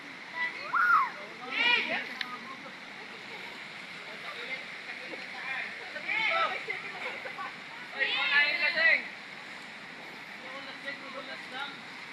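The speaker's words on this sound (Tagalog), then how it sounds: "nandito na kami sa ilog. Malinaw ang tubig." A clear river flows and splashes softly in the background while people talk and call out close by, their voices rising above the steady water.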